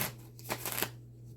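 Tarot cards shuffled in a quiet room during a card reading, a few soft riffling bursts with short pauses, close and faint over a steady low hum.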